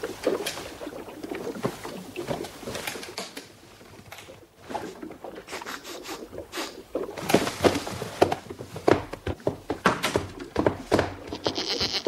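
A goat bleats repeatedly aboard a ship at sea, with short wavering calls that grow louder and more frequent toward the end.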